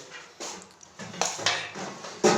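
Clinks and scrapes of a spoon against a bowl as cream chaat is spooned in, several short metallic knocks in an irregular rhythm, close and fairly quiet with no talk.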